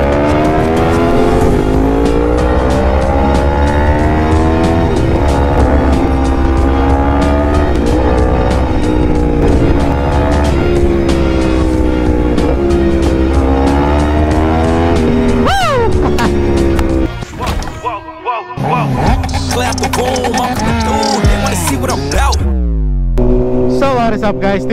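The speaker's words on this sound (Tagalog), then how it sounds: "test drive natin yung MT-10 ni Sir Brian" A Yamaha MT-10SP motorcycle on a test ride, its engine loud and close with rising and falling revs through gear changes, a sharp surge and brief dip near the end, with wind rush and a voice briefly over it.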